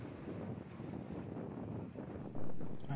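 Strong wind roars and buffets the microphone with a constant rumbling rush, swelling into a louder gust near the end.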